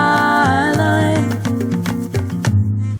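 A short excerpt of a song from an EP: loud recorded music with a bass line stepping through notes under a sustained melodic line and rhythmic hits, cutting off abruptly at the end.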